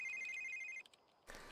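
A phone rings in The Sims 3 video game, a bright electronic tone pulsing steadily for under a second and then cutting off, followed by a short burst of noise.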